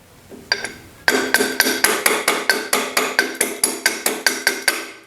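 A hammer strikes a metal locking plate tab on a VW link-pin front end in a steady run of about sixteen sharp, ringing blows after two isolated taps, close and loud with no talking.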